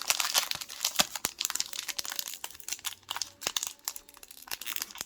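Pokémon card booster pack being torn open, a close run of sharp crinkling and ripping foil wrapper noises in irregular bursts, with no voices.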